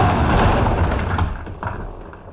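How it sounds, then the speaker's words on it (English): A rumbling, crashing clatter comes from a newly installed shelf buckling under the weight of about a hundred books. It is loud and dense at first, then settles into scattered thuds and taps as the noise fades over a couple of seconds. "That was the sound of a shelf I just installed, buckling under the weight of 100 books."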